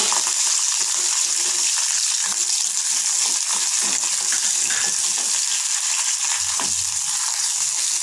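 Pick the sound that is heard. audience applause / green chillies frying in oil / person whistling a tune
green chillies frying in oil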